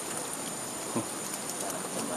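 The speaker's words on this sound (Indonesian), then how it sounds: "Besar hujannya, Mas." Heavy rain falls steadily outdoors in a dense, even hiss that stays loud and close throughout, with one brief low thump near the middle and no talk over it.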